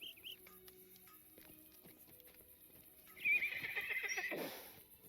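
A horse in Lord of the Rings Online whinnies loudly, with an earlier shorter neigh and a scatter of clip-clopping hooves under it, all close and clear against a quiet game backdrop.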